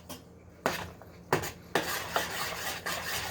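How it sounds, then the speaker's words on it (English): A spoon scraping and knocking against a pot while butter, milk and cheese are stirred together, several distinct clinks and scrapes in an irregular rhythm, close and moderately quiet. "And then I'm going to give it a nice big stir."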